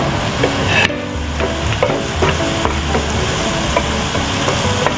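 Garlic sizzles steadily in a hot pot for beef sopas while a utensil stirs it, with a dense, loud frying hiss and scattered scraping knocks throughout.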